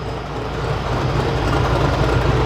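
Offroad buggy engine idling nearby, a steady low rumbling drone holding fairly even for a couple of seconds with no voices over it.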